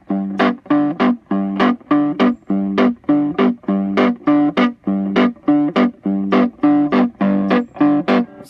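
Driven electric guitar plays a sped-up ragtime piano left-hand part, alternating low bass notes with short muted chord stabs in a quick, steady bouncing rhythm, close and loud throughout, with no voices.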